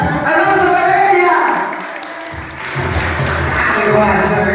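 Audience applause and cheering for a girl at a children's day celebration, a dense crowd wash that dips briefly midway then swells again, with voices mixed in.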